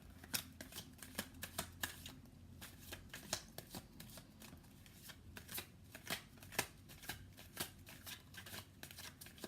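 Tarot cards being shuffled in quick, irregular riffles and soft slaps, close and fairly quiet, steady across the whole stretch with no one speaking.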